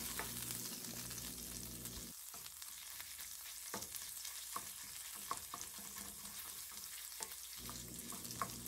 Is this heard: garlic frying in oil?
yes